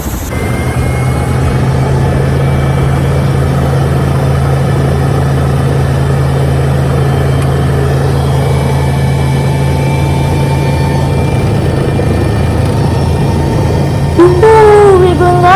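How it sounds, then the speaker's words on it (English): Steady loud engine drone with a constant low hum fills the inside of a helicopter cabin throughout, ending with a brief higher whine near the end. "you won't be able to hear me because of the sound of the helicopter."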